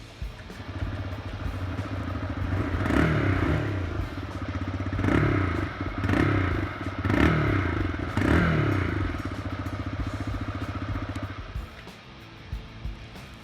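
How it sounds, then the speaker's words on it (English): Single-cylinder 125 cc engine of a 2021 TVS Raider 125 motorcycle running close by, a steady low thrum with rhythmic revving swells and mechanical clatter throughout, easing off near the end. "This is a 125 single, and it actually sounds quite good for its configuration."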